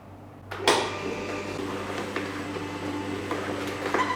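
A Hurom cold-press juicer hums steadily while pressing apple, fruit and vegetables, starting with a clunk and continuing as an even mechanical drone with faint knocks.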